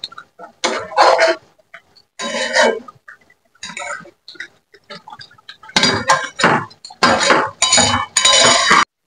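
Begun sundori, an eggplant dish with sugar added, is stirred in a pan with a spatula, giving a series of scraping, clinking strokes in short bursts with brief pauses between them, close and fairly loud.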